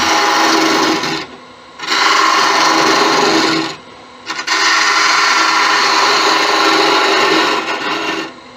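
A loud, harsh scraping rasp of a tool hollowing a spinning bamboo root on a wood lathe, in long sustained passes broken by two brief pauses.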